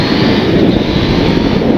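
A KTM 890 Duke GP 2023 motorcycle at speed, its engine a loud, dense, continuous roar blended with wind rush, steady throughout with no voices.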